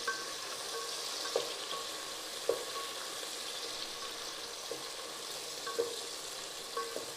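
Tomatoes and onions sautéing in a pan for a stingray fish kulambu, a soft, steady sizzle with occasional light clicks of stirring, fairly quiet and without talk.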